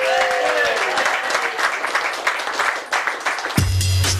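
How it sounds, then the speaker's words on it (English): Studio applause on a community radio show runs as a steady burst of clapping, with a brief whistle-like tone early on, then cuts off abruptly into a low electronic hum and buzz. "Round of applause to my mom."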